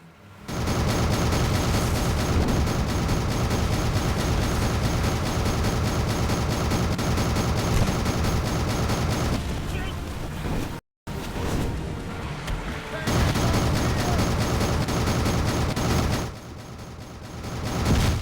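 Sustained gunfire from a mounted gun in the Captain Blood video game, a loud continuous rattling barrage with brief pauses and a short cutout partway through, accompanied by mechanical clatter.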